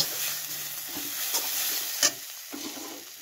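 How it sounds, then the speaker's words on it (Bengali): Chilli, cumin and coriander powders stirred and frying in a pan for a cauliflower curry, a quiet steady sizzle with a few soft scrapes and clinks of the spoon, no voices. "দিয়ে আমি ভালো করে মশলাটাকে মাখিয়ে নেব।"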